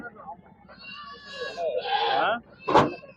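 Goats bleat at an outdoor livestock market in Pudhiyamputhur, Thoothukudi, several overlapping wavering calls close by, followed by a sharp knock, with crowd chatter beneath.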